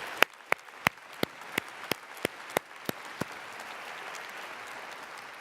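A few people at an annual meeting clap for the board members, each clap sounding on its own in a slow, sparse run that fades out after a few seconds, leaving a low background hush.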